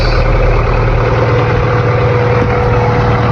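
An Integra's engine idles smoothly after an idle-issue repair, a loud, close, steady low rumble with a faint constant whine and no surges.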